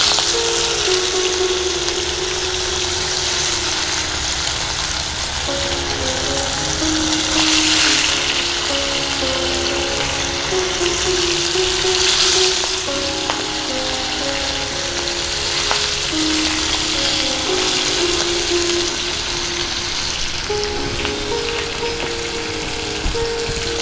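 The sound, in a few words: fish frying in hot oil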